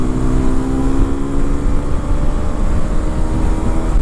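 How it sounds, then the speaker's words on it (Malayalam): Hero XPulse 210 motorcycle exhaust while riding, a steady loud engine drone with a continuous mid-range hum and rough low rumble throughout, no talk. "ഇതിൻ്റെ എക്സോസ്റ്റ് ഒരു രക്ഷയില്ലാത്ത എക്സോസ്റ്റാണ് കേട്ടോ"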